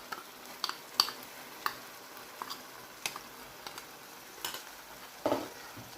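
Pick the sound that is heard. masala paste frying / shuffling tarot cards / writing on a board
masala paste frying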